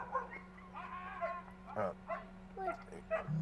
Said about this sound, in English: A lady just fell on her dog. Now they got dogs fighting.